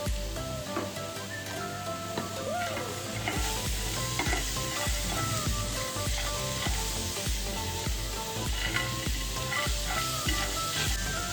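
Chopped onion and tomatoes fry in a pan with dried red chillies, giving a steady, close sizzle broken by stirring scrapes throughout, with no talking.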